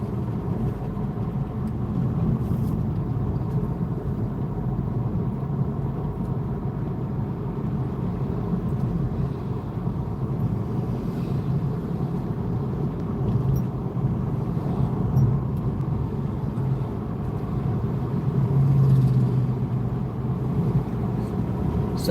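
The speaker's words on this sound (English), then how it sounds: "Traffic out here is terrible." Road traffic heard from inside a moving car during a drive: a steady, low engine and tyre rumble drones on without pause, with faint passing swells and no clear voices.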